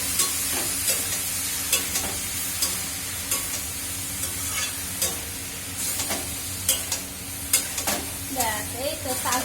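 Mixed vegetables and greens frying in a pan, a continuous close sizzle punctuated by repeated scraping stirs of a spatula, with no talking.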